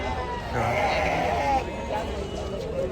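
Sheep bleat amid the bustle of a large goat and sheep market at Chakan, Maharashtra, with someone talking close by over a background of crowd chatter.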